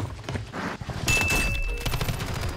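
Kastov LSW light machine gun fire in a video game, heard as a rapid close burst of shots followed by thuds and mechanical clicks, with game effects layered underneath.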